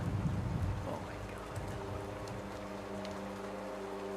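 Steady thunderstorm rain in the video game Rue Valley, a dense hiss of drops on surfaces with a low rumble early on, constant and moderately quiet with no voices.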